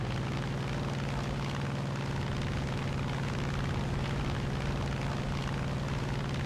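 Jet aircraft taking off from a carrier in War Thunder, a loud, constant engine roar with a steady low hum, close and unbroken for the whole stretch.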